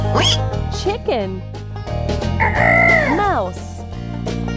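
A chicken lets out a long, rising and falling crow-like squawk over a looping music track in a farm animal stacking game, loud and close in the middle of the clip.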